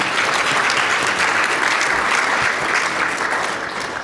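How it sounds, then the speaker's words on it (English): Audience at a civic annual address breaks into sustained, dense applause that fills the whole stretch, loud and close, fading only slightly at the end with no speech over it. "That deserves a round of applause."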